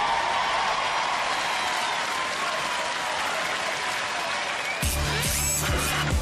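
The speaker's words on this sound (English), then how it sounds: "A big round of applause for both of our teams that competed here today" A studio audience applauds both Robot Wars teams after a spinner battle, steady dense clapping filling the clip, with a louder burst of crowd noise near the end.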